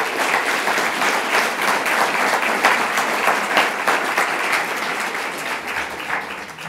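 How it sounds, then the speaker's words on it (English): Sustained applause from an audience at a children's book awards ceremony, a dense steady wash of clapping that stays loud and even throughout without talk. "Please give all of these people a round of applause."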